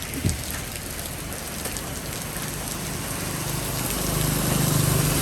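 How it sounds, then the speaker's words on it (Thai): Rain pours steadily outdoors near a market, a dense continuous hiss of drops on surfaces that builds slightly louder toward the end, with no talk. "ฝนตกลัดทางพี่น้อง"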